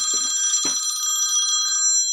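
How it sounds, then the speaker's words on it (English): A telephone rings in an office during a talk on a notes editing process, a bright trilling electronic ring that holds for under two seconds against quiet room tone, with a few brief bumps at the start. "Oh, excuse that phone."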